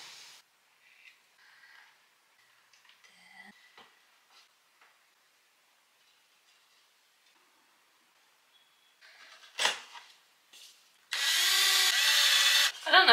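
A power drill drives screws into a wooden tabletop near its edge: a long stretch of near silence with faint handling noises, then a loud, close two-second whir of the drill near the end.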